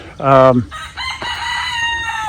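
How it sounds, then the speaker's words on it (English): A rooster gives a single short, deep-voiced crow that sounds weak and cut off, loud and close, followed by a steady high hum and faint background noise. "That's a pretty sad crow. He's got a deeper voice"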